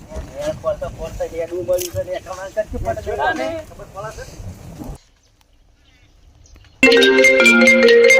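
A loud electronic phone ringtone melody starts abruptly after talking and a brief silence, playing steadily to the end.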